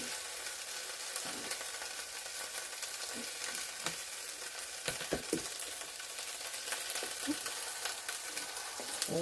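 Fresh garden dandelion greens and onions fry in bacon grease in a pan, giving a soft, steady sizzle with faint crackles and occasional stirring clicks throughout.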